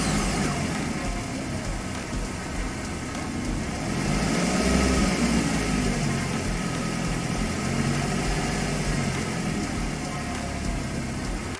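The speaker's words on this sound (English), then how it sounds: "It does have an internal engine noise coming up." A 2007 Mazda 3 idles steadily up close with a continuous engine hum and broadband mechanical noise from an internal engine fault, swelling slightly in the middle and running throughout with no talk.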